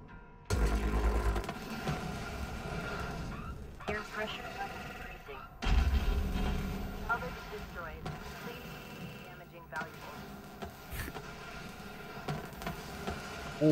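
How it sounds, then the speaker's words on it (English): Explosions go off in the space salvage video game Hardspace: Shipbreaker: several deep booms strike at intervals, one near the start and another around the middle, with someone talking between and over them. "Oh man, there's just explosions going on everywhere."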